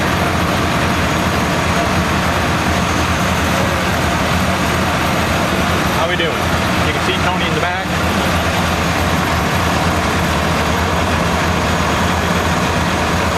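Heavy diesel engines of Case IH tractors in a slow uphill parade at the 2015 Red Power Roundup, a loud constant drone close by, with someone talking briefly over the rumble.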